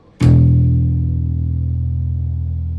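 An open fourth string E on a bass guitar is plucked once for tuning, a sharp attack followed by a deep, loud sustained note that slowly decays, heard alone and close.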